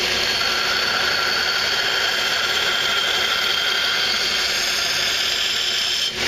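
A belt grinder hollow grinds a knife blade, a loud, steady high-pitched whine and abrasive hiss holding continuously under light pressure, dropping briefly at the end.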